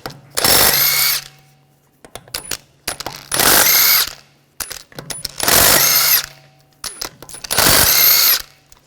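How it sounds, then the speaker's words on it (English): An impact wrench spins lug nuts off a wheel of a 2009-2013 BMW 328i xDrive with a 17mm socket, four loud close bursts of about a second each separated by short pauses with faint clinks between. "We're going to remove the wheel, use a 17mm socket, take the lug studs out."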